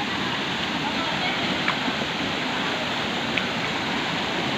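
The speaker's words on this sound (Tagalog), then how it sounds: "So guys, ito na po yung isa sa magandang falls dito." Steady broadband roar of 14 Steps Falls in New Ibajay, El Nido, Palawan, a continuous wash of falling water with no breaks, loud and close.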